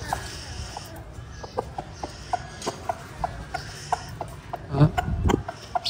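A chicken clucking and pecking at a caterpillar, short bursts of soft clucks repeating at close range, with a louder flurry near the end and faint background sounds.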